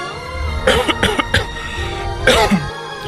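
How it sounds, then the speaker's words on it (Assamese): A man in an Assamese cartoon coughs in a series of harsh, rasping bursts, close and loud, with a final throat-clearing hack and no speech over it. "দেউতা তুমিনো এতিয়া কিয় কাহি আছা এনেকৈ"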